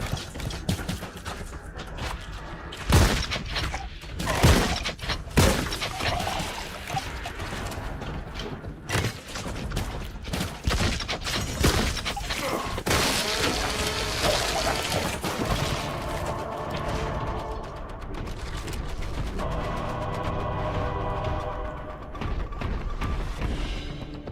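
Bolter gunfire and explosive rounds from the video game Warhammer 40K Boltgun, a dense, loud barrage of rapid shots and blasts running continuously with heavy mechanical clatter throughout.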